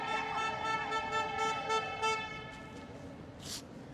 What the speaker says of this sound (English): there's loud honking, all of that